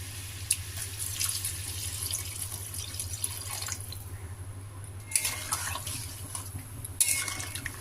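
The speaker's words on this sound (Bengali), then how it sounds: "এখন আমি এর মধ্যে জল দিয়ে দিব।" Water pours steadily into a pan of spiced jackfruit curry in a kitchen, a continuous splashing stream with a low background hum and a few brighter splashes.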